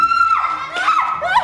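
A girl screams in long, piercing, wavering cries indoors, loud and close, with faint background voices.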